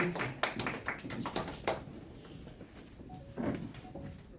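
Audience clapping at a press conference: a scattered burst of claps in the first two seconds, then fading into room noise, with brief tonal sounds later.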